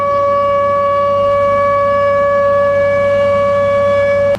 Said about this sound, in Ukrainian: По всій країні завтра будуть звучати от такі звуки сирен.